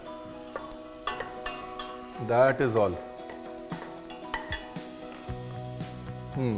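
Onions sauté quietly in a pan for a vegetable soup with a soft, steady sizzle, cooked lightly only to lose their rawness, while a person speaks briefly over the cooking.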